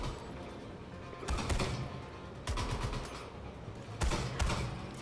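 Bursts of gunfire in Suicide Squad Kill the Justice League, played co-op on PC, come in three separate clusters of rapid shots over a steady low background rumble, moderately loud and close.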